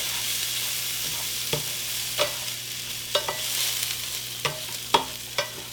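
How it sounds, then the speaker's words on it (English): A spoon stirs orzo coated in butter in a pan, making a low buttery sizzle broken by several distinct scrapes and taps, close and fairly quiet with no voices. "I'm going to stir those up to kind of get them coated in the butter"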